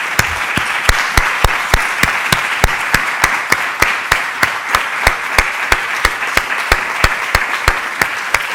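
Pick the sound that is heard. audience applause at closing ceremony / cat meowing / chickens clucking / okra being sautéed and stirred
audience applause at closing ceremony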